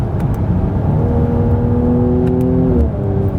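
A Mercedes C43 AMG, the 2019 C-Class facelift, set to sport mode, with a steady engine and exhaust drone that rises in pitch as it revs, then drops back near the end. The sound is close and loud, with no talking.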